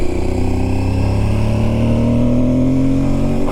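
Loud, steady roar from an Aprilia Tuareg 660 motorcycle engine with heavy airbox intake noise, a sustained close-up drone with a slowly rising pitch as it revs under load.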